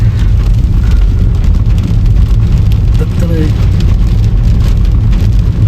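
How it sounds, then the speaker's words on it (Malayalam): Heavy rain drums down on a trip through Attappadi in Palakkad, a loud, constant roar mixed with low vehicle rumble throughout. "സംഭവം മഴ കനക്കെന്ന് പറഞ്ഞ വെറുതെ ഒന്നല്ല കേട്ടോ"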